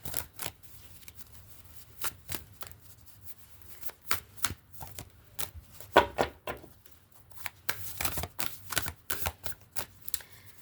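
Crisp riffling and snapping bursts of large cards being shuffled, several separate runs with brief pauses between, close and fairly quiet.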